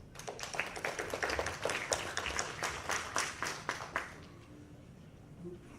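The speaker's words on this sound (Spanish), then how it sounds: "a quien por favor recibimos con fuertes aplausos" Audience applause at a Peruvian panel discussion on ICTs and public policy, a dense burst of hand clapping that thins out and fades after about four seconds, leaving a quiet room.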